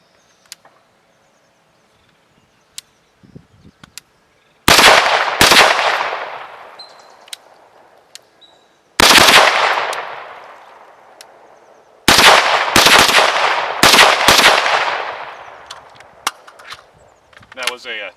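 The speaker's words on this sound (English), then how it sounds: "let's run some rounds through this one" Several loud AR rifle shots in 300 Blackout with a JMT Sabre drop-in trigger, a single crack, a brief pause, then clustered bursts of rapid fire with long echoing decay, alone without talk.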